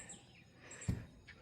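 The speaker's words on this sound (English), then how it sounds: "I have birds flying around me" Faint birds chirp outdoors, a few short, thin calls scattered over a quiet background, with one soft low thump partway through.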